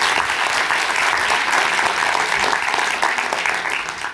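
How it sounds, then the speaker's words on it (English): Loud, dense applause from an event audience welcoming the guest of honor at a sustainability conversation forum, sustained clapping that stays even throughout and starts to ease slightly at the close. "A big round of applause for our guest of honor"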